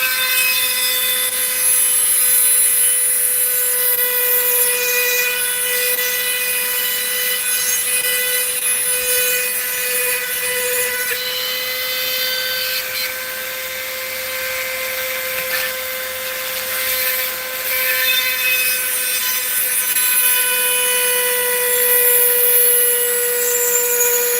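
A rotary drill bores a hole into agate or jasper rock, giving a steady, close grinding whine with a sustained tone and light scraping texture that runs the whole time without pause.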